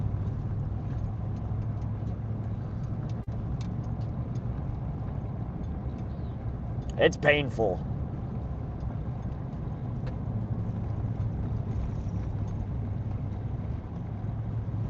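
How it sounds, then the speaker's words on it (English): A truck hauls a boat trailer along a rough dirt road on the way to Pishkun Reservoir in Montana, giving a steady low engine and road rumble throughout, with one short spoken remark near the middle. "I just hate pulling the boat trailer down dirt roads"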